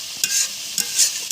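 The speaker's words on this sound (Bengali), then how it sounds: "এবার লবণ দিয়ে মশলাটা সুন্দরভাবে কষিয়ে নিব।" Masala spices are stir-fried in a pan, with three quick scrapes of a spatula over a steady close sizzle.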